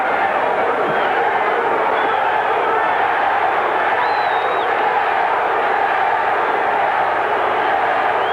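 Packed boxing crowd of about 20,000 at Madison Square Garden, New York, a steady roaring murmur filling the arena throughout, with commentary talking over it.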